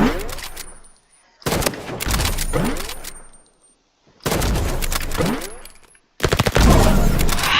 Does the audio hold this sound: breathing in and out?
no